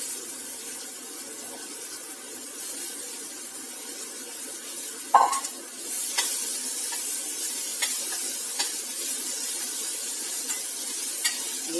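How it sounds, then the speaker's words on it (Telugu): Bitter gourd pieces frying in a pan, a steady broad sizzle running throughout with a sharp clatter partway through and scattered light clicks of stirring afterward. "బాగా ఫ్రై చేయాలి బాగా వేగిపోయినాయి"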